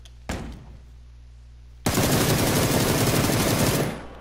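In a video game, a single loud shot, then after a short pause a sustained, dense burst of rapid automatic gunfire lasting about two seconds before fading.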